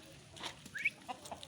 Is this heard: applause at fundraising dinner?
no